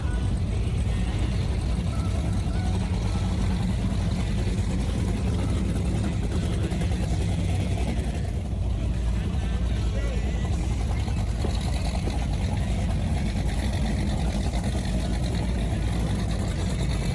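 Steady low engine rumble of offshore powerboats idling on the water at the start of a poker run from Miami to the Middle Keys, continuous throughout, with voices chattering over it.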